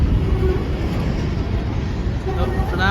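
An empty BNSF coal train rolls past, a continuous low rumble and clatter of railcars at steady volume throughout, with a faint squeal near the end.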